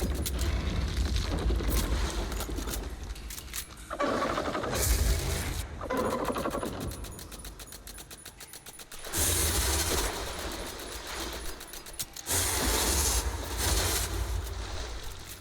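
Rapid automatic gunfire from a ranged weapon hitting a monster in Dauntless, loud bursts repeating in long stretches with short pauses between, mechanical clatter throughout and no talking.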